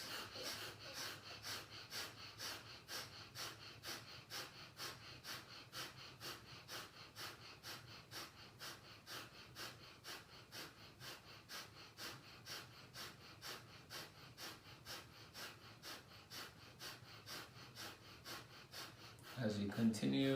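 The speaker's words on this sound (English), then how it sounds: "we begin breath of fire." Rapid, rhythmic breath-of-fire yoga breathing from a Kundalini practice, with steady quick forceful exhalations repeating evenly for about twenty seconds, close and continuous, with a brief louder burst at the very end.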